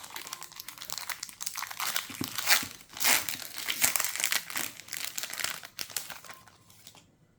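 A Pokémon Silver Tempest booster pack is torn open by hand, close crinkling and crumpling foil with sharp tearing bursts, then fading into quiet at the end.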